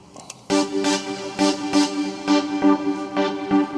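A synthesizer lead preset named Follow plays a string of bright, sustained notes in a steady rhythm, about eight evenly spaced pulses, heard alone after a brief quiet lead-in.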